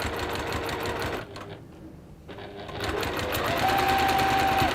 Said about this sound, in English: So again, I'm just sewing these strips down.